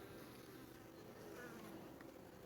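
Honeybees buzz steadily around an open hive during queen marking, a soft continuous hum with a few faint nearer passes and no talk.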